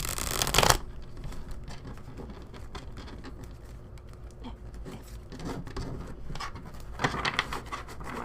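Tarot cards are shuffled by hand in a quiet room, a sharp riffle at the start followed by soft, repeated flicking and patter of cards, close and fairly faint.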